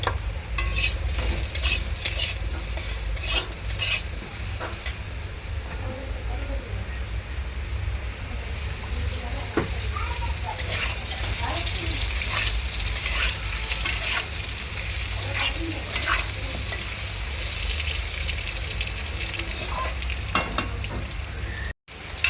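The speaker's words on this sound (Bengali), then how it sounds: "আলুটা মোটামুটি ভাজা হয়ে গিয়েছে" Potatoes fry in a pan with a steady, dense sizzle and crackle running throughout, close and fairly loud, with occasional stirring scrapes and no talking.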